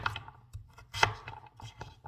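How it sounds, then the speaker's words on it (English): A knife cuts food on a board in a home kitchen with a quick run of light, irregular chopping taps and thuds, close and quiet, with one sharper knock near the middle. "let me just cut this up here real quick"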